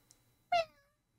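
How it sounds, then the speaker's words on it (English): A single short, high baby kitten meow in a webtoon sound effect, clear and close, rising then trailing off, preceded by a faint tiny click in otherwise quiet surroundings. "Huh? What was that? A baby kitten?"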